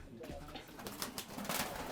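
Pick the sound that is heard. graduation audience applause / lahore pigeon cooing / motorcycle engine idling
lahore pigeon cooing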